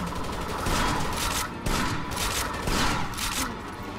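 Gunfire rattles through a building in Rainbow Six Vegas 2, with dense repeated bursts of shots at a fairly loud, steady level and brief louder clusters, heard alone without speech.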